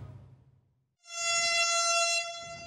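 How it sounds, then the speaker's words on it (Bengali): A metro rail train's whistle sounds as one loud, sustained, steady tone that starts abruptly after a quiet, rumbling moment and holds for about a second and a half before fading. "নগরে মেট্রো রেল হুইসেল বাজিয়ে"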